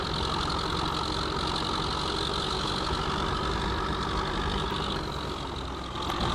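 Steady, continuous drone of a Challenger tractor engine in Farming Simulator 15, a loud unbroken mid-range hum running throughout with no talking.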